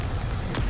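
A Confringo blast spell goes off in the Hogwarts video game as a short, loud, booming burst with a dense low rumble, close and alone.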